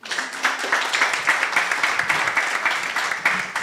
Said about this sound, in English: Let us clap for them very well,